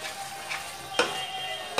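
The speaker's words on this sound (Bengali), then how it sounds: "এবার সব মশলা দিয়ে ভালো করে নাড়িয়ে দেবো" Spices and garlic being stirred in a sizzling pan for pav bhaji, a steady frying hiss broken by a few sharp scraping strokes of the spoon, close and with no talk.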